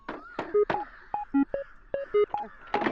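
Touch-tone dialing beeps on a coin-operated phone, about a dozen short, loud, clean tones in quick irregular succession, with a few soft clicks and handling sounds between them.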